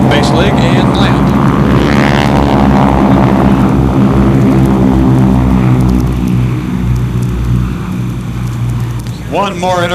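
A PV-2 Harpoon propeller aircraft at a 1994 air show in Batavia, New York drones loudly and steadily overhead, its engine tone slowly shifting as it passes, with a voice speaking over it.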